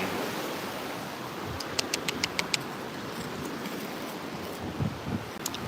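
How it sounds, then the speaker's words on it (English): A loud mountain stream at a swimming hole rushes in a steady broadband roar, with a few brief clicks and small knocks on top and no talking. "That water's loud."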